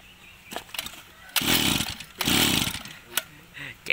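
A brush cutter, one of several Japanese-made units such as a Robin 40li, TL261 or STIHL model, revs in two loud bursts between quieter idling and brief pops, close to the listener.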